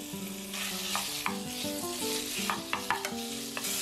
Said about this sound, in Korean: 코코넛 오일 1스푼, 소고기 200g, 소금 조금 넣고 볶아주세요.